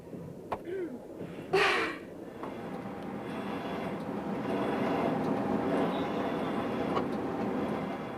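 A Trans-Siberian train runs along the rails with a steady low rumble that swells slightly and holds. There is a brief breathy burst near the start but no talk.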